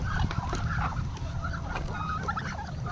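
Turkeys gobble in a busy flock, with overlapping fowl calls and rustling, fairly close and steady throughout.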